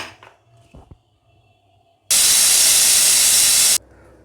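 A loud, steady rush of hissing steam bursts from a pressure cooker whistle for under two seconds while cooking sambar, then cuts off abruptly, preceded by faint kitchen clatter.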